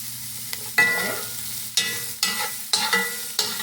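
Onions softening in a hot pan sizzle steadily, close and loud, broken by repeated scraping stirs with a utensil at roughly one-second intervals, with no talking.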